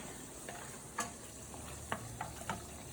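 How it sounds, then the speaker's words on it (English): Spring risotto quietly simmering in a pan as it absorbs broth and wine, a soft steady bubbling hiss with a few faint pops and clicks, low and close. "I can hear my risotto cooking,"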